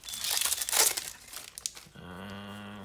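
A Yu-Gi-Oh booster pack wrapper crinkling and tearing open, close and crisp, with a burst of crackly ripping that fades into a few small rustles before a soft steady hum takes over.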